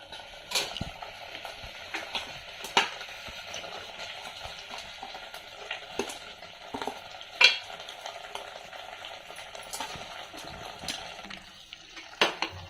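Ginger-garlic paste fries in oil for mutton head curry, giving a steady low sizzle broken by repeated clacks and scrapes of a spoon against the pan, with sharper knocks now and then and no talking.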